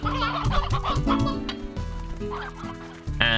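Chickens cluck and warble in the video game Slime Rancher, with a dense run of overlapping clucks and squawks, close and loud, and no voices.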